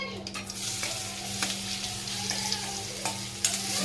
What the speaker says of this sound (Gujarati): તુરિયાના સંભારાનો વઘાર થઈ રહ્યો છે.